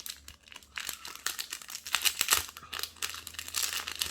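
Small paper wrapping around ring jewelry from a clothing haul crinkles and rustles up close in irregular bursts of crumpling, with no speech.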